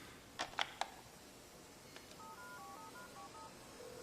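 A telephone is dialled by hand, opening with a few sharp clicks of handling, then a quick run of short touch-tone beeps in an even rhythm, quiet and close.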